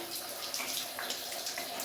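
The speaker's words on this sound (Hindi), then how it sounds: "ठंडा बहुत ठंडा ठंडा पानी बा" Cold water splashing and pouring down during an outdoor bath, a continuous close gush with uneven spatters and small surges throughout, no voices.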